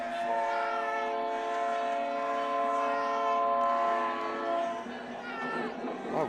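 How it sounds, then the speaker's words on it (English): A train horn sounds loudly and steadily through the whole stretch at a varsity high school football game, with crowd chatter mixed underneath. "we love to hear the sound of that train coming through"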